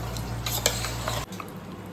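Mutton being mixed by hand or spoon with hot oil left from frying potatoes and onions, plus salt, for Kolkata-style mutton biryani; a dense wet squelching and stirring that stops abruptly partway through.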